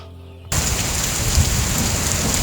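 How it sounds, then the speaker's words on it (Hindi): Heavy rain pours steadily outside after a brief quiet start, a dense close hiss of a storm with low thunder rumbling underneath, like a cartoon sound effect. "लगता है बाहर बहुत बारिश हो रही है, आंधी तूफान चल रहे हैं।"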